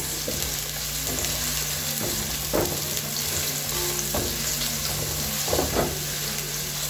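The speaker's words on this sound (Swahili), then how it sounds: "So the first thing you do, of course, cook your onions." Onions cooking in a pan as the start of a chicken biryani: a continuous close sizzle and fry, with a few light stirring scrapes, and no one talking.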